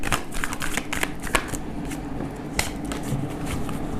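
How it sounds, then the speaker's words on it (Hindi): Tarot cards being shuffled up close, a steady run of crisp papery riffles and flicks with a few sharper snaps, loud and continuous without speech. "This is my last shuffle."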